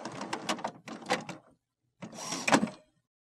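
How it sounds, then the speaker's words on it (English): HP Officejet Pro printer powering on, with whirring and clunking mechanical bursts as its motors and carriage move, a short pause, then another louder grinding run before it goes quiet. "Wait for the printer to turn on and stop making noise."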